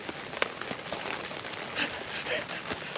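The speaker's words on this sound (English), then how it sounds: "It's just it's raining." Steady rain patters on a surface around a hammock campsite in the rain on the Isle of Wight, a soft continuous hiss with scattered louder drops and a few faint crackles throughout.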